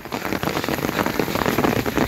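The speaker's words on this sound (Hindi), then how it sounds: "बारिश बहुत खौफनाक शुरू हो गई है।" Heavy rain pours down in the mountains of Neelum Valley, a dense, steady roaring hiss of drops hitting surfaces close by, continuous for the whole stretch with no voices.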